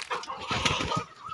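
Chickens on a poultry farm cluck in a short, close burst of overlapping clucks and squawks against a faint barnyard background.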